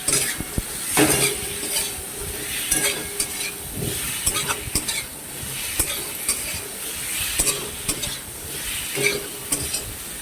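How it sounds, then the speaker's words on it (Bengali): Fried potatoes are stirred into spice masala frying in a pan, a steady sizzle under frequent scraping strokes and light clinks of the spoon against metal, no talking. "এবার দেখো আমি ভালো করে কষিয়ে নিচ্ছি। ওর মধ্যে দিয়ে দিলাম ভেজে রাখা আলুগুলো।"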